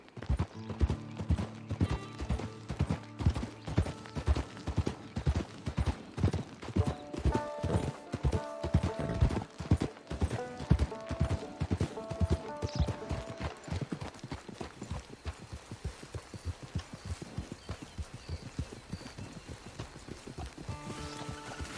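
Horse hooves clip-clop in the video game Red Dead Online, a steady run of hoofbeats that is dense and clear at first, then grows softer and more scattered toward the end, with no talk.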